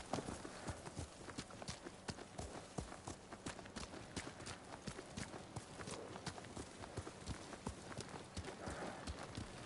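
Horses' hooves clop at a steady trot in the video game Ghost of Tsushima as mounted riders set out, a quick, even run of close hoofbeats that continues throughout with no talking.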